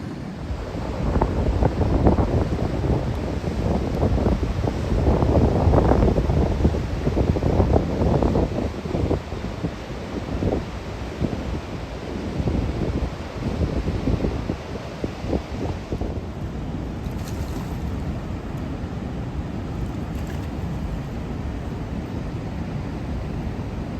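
Water rushing along a river beside a walking trail in Almonte, Ontario, a steady broadband roar with gusts of wind buffeting the microphone, stronger in the first half and settling to a constant wash.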